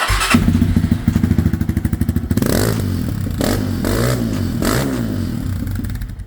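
A motorcycle engine idles with a rapid, even thumping, then revs up into a louder, rougher roar with some clatter. It is close and loud, and no one speaks.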